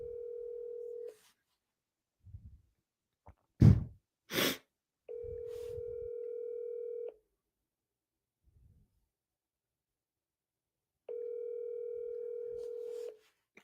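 An automated telephone call gives steady, loud ringback tones that sound in long spaced bursts, with faint breathing and a sharp gasp-like noise in the quiet gap between.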